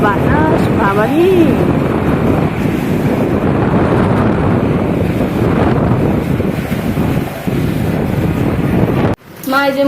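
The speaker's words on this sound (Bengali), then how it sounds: "কি বাতাস, বাবারে!" Strong wind roars during a heavy rainstorm in Chattogram, loud gusts buffeting the microphone almost continuously, with a voice exclaiming over it near the start.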